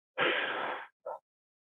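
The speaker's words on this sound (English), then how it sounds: "Breathe in sharply and breathe out." A person wearing a sealed respirator mask draws one sharp, noisy breath in, then lets out a short puff, close and alone in quiet.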